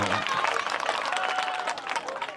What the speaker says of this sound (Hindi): आज इस स्वतंत्रता दिवस के अवसर पर जोरदार तालियों से उस तिरंगे के लिए सलामी।